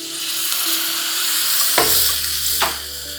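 Water poured into a hot pan of chillies and turmeric bursts into a loud sizzle, with a second hissing surge a moment later, over a steady frying hiss and stirring.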